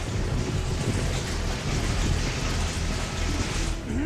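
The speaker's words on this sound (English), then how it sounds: "there's lightning being summoned apparently" Summoned thunder and lightning in the video game inFAMOUS, a loud, continuous stormy roar with rolling low rumbles and rain-like hiss that persists throughout.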